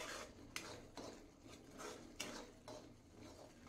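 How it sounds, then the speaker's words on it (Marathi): A sticky coconut burfi mixture stirred steadily in a pan, with a repeated scraping rhythm of the spoon against the metal and occasional sharper knocks, close up and alone. "हलवत राहायचं सारखं।"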